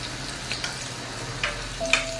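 Ginger-garlic paste dropped into hot oil with cumin seeds sizzles steadily, a close, continuous frying hiss with a few brief clinks of a spoon against the pan.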